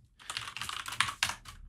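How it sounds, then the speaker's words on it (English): Keys clatter on a computer keyboard in a quick, uneven burst of close, soft taps while someone writes C++ code, with no talking. "Whoa, typing in Russian accidentally as usual."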